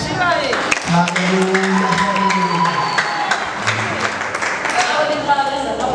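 Church congregation clapping in praise to God, a steady burst of applause and cheering under a preacher's spoken voice and exclamations.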